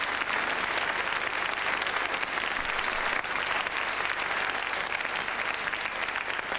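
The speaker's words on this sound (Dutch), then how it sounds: "En die krijgt van ons publiek een geweldig applaus," A studio audience at a Dutch-language game show claps loudly and steadily, a dense, sustained wash of applause with no break.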